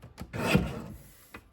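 A paper trimmer blade slides across a sheet of cardstock, a close, brief rasping cut that swells and fades within about a second, with faint handling noises around it.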